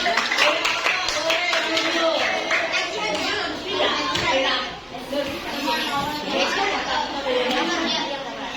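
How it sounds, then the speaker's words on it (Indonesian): A group claps steadily through lively chatter and children's voices during a teacher-training lesson on coding and artificial intelligence, the clapping dense and close for several seconds. "Betul sekali, tepuk tangan."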